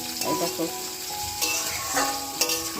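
Mixed vegetables with broken lentil dumplings sizzle and fry in a pan for a Bengali chorchori, with steady crackling and occasional scraping stirs, close and moderately loud, with no talk.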